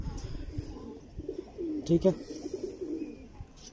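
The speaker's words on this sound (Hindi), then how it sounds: "ये कोने वाला टैडी कबूतर" Line-bred teddy pigeons coo softly in a loft, with low repeated coos beneath a man's nearby speech.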